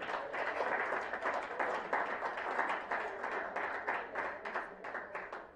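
An audience at a bank cash-competition media launch claps steadily, a dense and fairly faint patter of many hands that holds for several seconds without voices over it.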